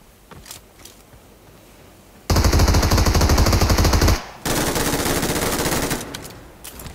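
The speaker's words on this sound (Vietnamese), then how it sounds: "Nghe tiếng sấy súng của bên này nghe nó vang rồi anh em nhỉ" Two long bursts of rapid automatic gunfire in PUBG Mobile, loud and close, separated by a brief pause, with quieter shots before and after.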